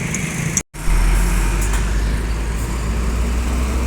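A bus moves through congested traffic at a red light in Indonesia, giving a loud, steady engine and road rumble after a brief dropout at the start, with no talk.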